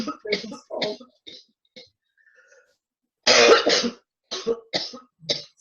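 Harsh, close coughing in several short bursts separated by pauses, with one louder, longer fit near the middle.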